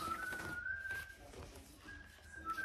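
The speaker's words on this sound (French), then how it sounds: "Lui, il sifflote de partout." A person whistles a steady, sustained tune in a room, the thin tone holding for about a second, breaking off, then returning, with faint background rustle and no speech.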